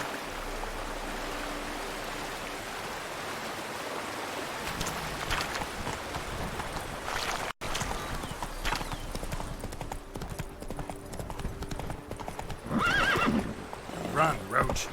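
Horse hooves clip-clopping at a gallop with repeated neighs and whinnies in The Witcher 3, over flowing water and a bridge, with someone talking over the action throughout.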